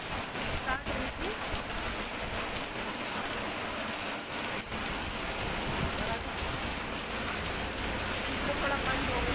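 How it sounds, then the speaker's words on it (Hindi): Heavy evening rain falls steadily outdoors, a constant close hiss and patter of drops on surfaces with a few louder splashes, while a person talks faintly underneath. "के टाइम से बारिश हो रही, शाम को 5 बजे स्टार्ट हुई थी।"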